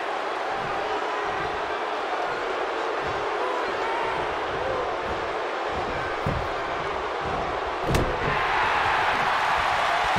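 A dense, steady crowd roar fills a wrestling arena in WWE 2K19, continuous and loud throughout, with a brief thump near the end.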